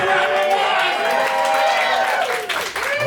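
Comedy club crowd at the Factory Bar in Richmond clapping and cheering, a loud continuous burst of applause close by, with a voice speaking over it.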